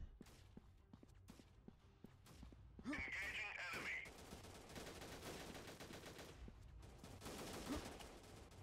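Faint, scattered gunshots crack in the shooter game Freeman: Guerrilla Warfare, a string of short sharp reports, some in quick bursts, set against quiet background activity and a voice talking.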